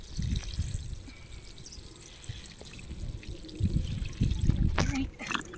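A watering can pours water onto garden plants in a small outdoor garden, trickling and splashing in uneven bursts that swell toward the end, with low rustling and handling noise close by.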